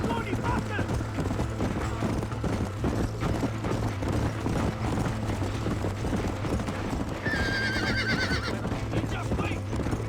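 A horse gallops in the Red Dead Redemption video game, with rhythmic hoofbeats throughout, a sharp neigh partway through and a constant low engine-like drone beneath.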